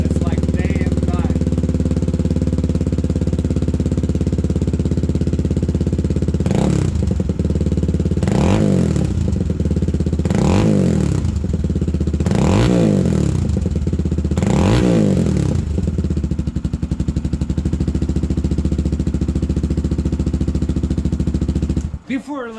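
A Benelli TNT135 motorcycle with a Pipe Werx decat exhaust idles with a steady clattery putter, then is blipped five times in a row, each rev a sharp rising snarl dropping back to idle.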